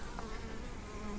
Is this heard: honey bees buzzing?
yes